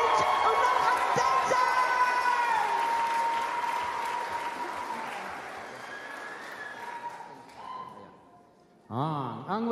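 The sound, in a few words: audience applause welcoming Anchorage Unangax Dancers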